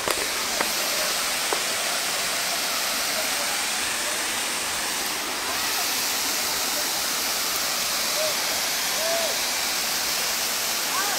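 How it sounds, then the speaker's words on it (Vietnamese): Mu Waterfall pours in a steady, loud broadband roar that stays even from start to finish, with no talking, only faint small sounds faintly over the rushing water. "Đây là Thác Mu đấy nhá"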